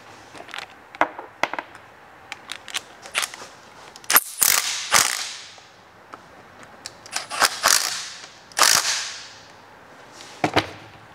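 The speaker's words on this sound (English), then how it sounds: "I'm going to torque these cap bolts too." Cap bolts on a Ford 9-inch differential are torqued down with a ratchet and torque wrench, giving close, sharp clicks and scattered bursts of clicking, with short quiet gaps between.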